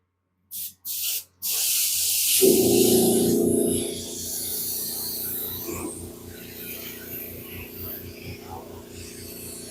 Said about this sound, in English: We'll go ahead and spray some red candy over the silver.